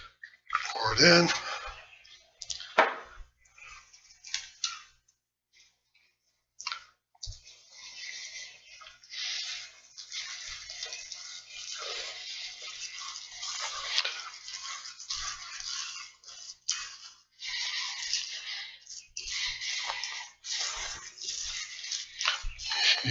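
Liquid is poured into a bowl while making seitan from gluten, a steady close splashing pour that runs for most of the stretch after a few brief clinks and handling noises.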